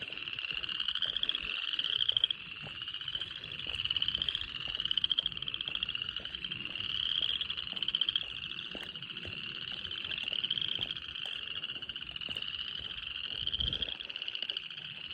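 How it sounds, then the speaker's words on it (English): A dense chorus of frogs croaks loudly and continuously, overlapping calls pulsing in a rapid steady rhythm with no voices. "Oh no, they're loud today."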